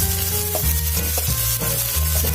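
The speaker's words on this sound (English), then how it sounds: "Okay, let's start for saute. So the garlic and the ginger mix together." Steady, close sizzling of garlic and ginger sautéing in a hot pan, with repeated scraping strokes as the mixture is stirred.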